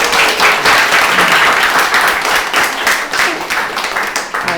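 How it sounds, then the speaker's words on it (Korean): Warm applause from an audience at a book talk for an essay collection launch, many hands clapping steadily and closely for several seconds before thinning out slightly. "박수 한번 칠까요?"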